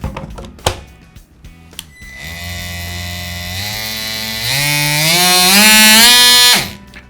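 A Ryobi ONE+ 18V cordless oscillating multi-tool buzzes close by, its harsh whine climbing in pitch as the speed increases, holding loud at the top, then cutting off abruptly.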